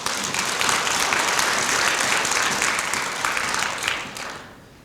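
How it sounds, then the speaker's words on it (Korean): A church congregation gives a loud, sustained round of applause, dense clapping from many hands filling the room before tapering off quickly at the end. "그 주님 앞에 영광의 박수 한번 돌려보세요."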